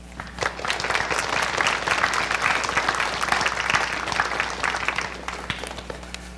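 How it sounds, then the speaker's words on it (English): An audience at a junior high honor society ceremony applauds the parents, grandparents and caregivers, a loud, dense, sustained round of clapping filling the room with little voice over it. "please give your parents, grandparents, caregivers a round of applause"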